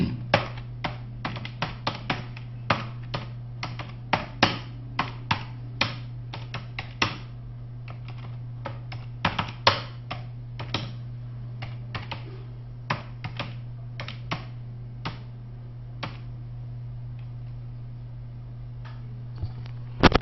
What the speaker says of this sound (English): So I now type the next paragraph.